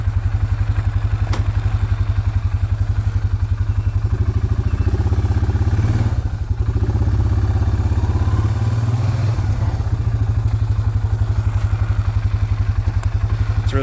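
A 2003 Suzuki Vinson 500 ATV engine runs loud and close with a steady, throbbing low rumble while riding, with a brief dip in the middle and faint clatter.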